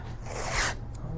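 Masking tape is pulled off the roll to tape a 1969 Camaro, making one close, raspy rip that swells and then fades within about a second, with no talking.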